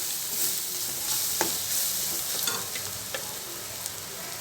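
Tisrya clam masala being sautéed and stirred in a pan in Malvani style, a steady close sizzle with scattered scraping clicks of the spoon against the pan.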